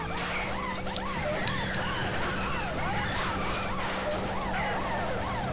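Police car siren in the video game Carmageddon, a loud wailing siren rising and falling repeatedly over engine rumble, steady throughout.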